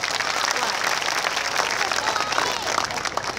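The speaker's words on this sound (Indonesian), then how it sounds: "Tepuk tangan semangat kita." Audience at an Islamic religious gathering (pengajian with sholawat) in Kauman, Karangrejo, Magetan, breaking into sustained dense clapping and crowd noise that stays loud and steady throughout.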